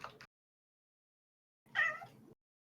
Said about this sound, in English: Hear a cat?